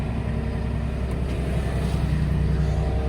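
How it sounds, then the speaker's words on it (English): Idling Massey tractor engine running steadily at about 1300 RPM on a farm with a swing conveyor and hydraulics hooked up, a continuous low rumbling drone that holds even and loud throughout. "Tractor's at about 1300 RPM."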